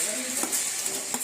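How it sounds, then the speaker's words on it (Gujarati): Grated onion and tomato hit hot oil in a pan for pasta, giving a soft steady sizzle with a few light clinks of a utensil stirring. "પાસ્તા માટે તેલ ગરમ મૂક્યું છે. હવે ડુંગળી ટમેટું એડ કરશું"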